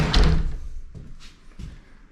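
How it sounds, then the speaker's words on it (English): A door inside a house under renovation swings shut with a fairly close thump at the start, followed by fainter knocks and rattles as it settles, with no talking. "Close the door."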